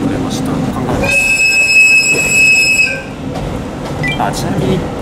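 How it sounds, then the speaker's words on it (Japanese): A local train bound for Obihiro in Hokkaido runs along the rails with a loud steady rumble, a high metallic wheel squeal ringing for about two seconds in the middle. "無事帯広行き普通列車に乗り換えができました。"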